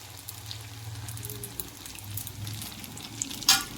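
Avichappam, a Kerala snack, frying in a pan: a steady, soft oil sizzle with faint bubbling and a brief brighter crackle near the end.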